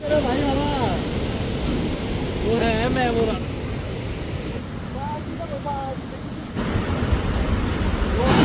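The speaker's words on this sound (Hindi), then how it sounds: "हवा चली है कि मैं क्या बताऊं, काफी अच्छा महसूस हो रहा है" Wind gusts steadily outdoors on a hill route, a continuous broad rush with a surf-like roar that persists throughout, while a person speaks intermittently over it.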